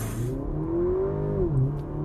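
A 2023 Porsche Macan T with a 2-liter turbo four-cylinder launches with launch control, its engine note climbing strongly, then dipping briefly at a gear change before pulling again, close and loud.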